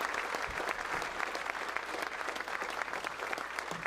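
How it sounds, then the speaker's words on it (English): Continuous applause from a crowd at a Memorial Day event in Fernley, dense clapping held at a steady level from start to finish. "Give them a round of applause."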